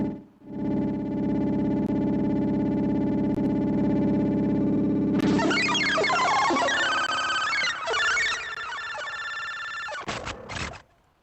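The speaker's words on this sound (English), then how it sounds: "now this is reverb, this is level. It's a big delay." A sustained synthesizer drone gives way to a dense, swirling wash of echoing, delayed electronic tones with heavy reverb, ending in a few clipped bursts.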